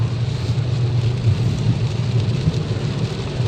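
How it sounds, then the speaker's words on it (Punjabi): Dense, steady roar of heavy rain pouring down without pause, with a low rumbling undertone; no one speaks. "ਦੇਖੋ ਬੜੀ ਜ਼ੋਰ ਦੇ ਨਾਲ ਬਾਰਿਸ਼ ਚੱਲ ਰਹੀ ਹੈ"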